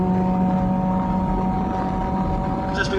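A Caterham Supersport racecar's engine drones loud and steady from close inside the cockpit, holding a sustained tone through a short stretch around an upshift into fifth gear.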